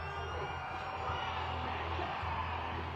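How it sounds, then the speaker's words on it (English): A stadium crowd at a Monster Jam truck event in El Paso, Texas, fills the space with a steady, fairly distant roar of whoops and yells. "I need you to scream as loud as you can for Bryce Kenny, Monster Mutt."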